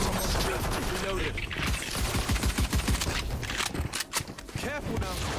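Rapid gunfire from the video game Valorant crackles in loud, dense bursts amid game sounds, with a player's voice over it.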